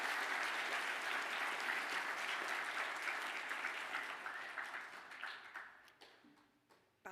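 Sustained applause from an audience at a graduation ceremony honouring Bachelor of Business graduates in Event Management with Public Relations, steady and dense at first, then thinning and fading to scattered claps near the end.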